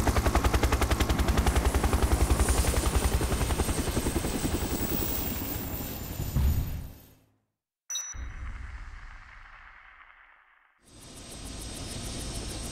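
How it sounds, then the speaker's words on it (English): A helicopter in the Dead Rising Deluxe Remaster video game beats with rapid rotor chop mixed with gunfire, loud and close, then cuts out abruptly before a whooshing engine-like noise resumes. "I'm getting on the helicopter whether you like it or not"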